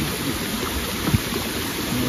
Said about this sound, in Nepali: खोला छ खोलाको पानी बगिरहेछ यस्तो भ्यू छ